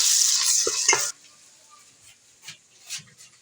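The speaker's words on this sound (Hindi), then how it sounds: "प्याज हमारे ब्राउन हो गए, अभी इसमें लहसुन अदरक का पेस्ट डाल रहे हैं।" Browned onions sizzle loudly in a pot for biryani as garlic-ginger paste is stirred in, then the frying drops to a faint hiss with occasional scrapes and clinks.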